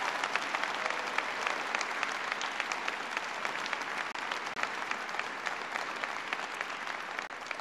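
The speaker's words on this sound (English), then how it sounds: "They did an outstanding job, and they deserve a big round of applause." Sustained audience applause fills the room for a congressional delegation at a presidential bill signing for the economic stimulus law, dense steady clapping with no break for the whole stretch, moderately distant.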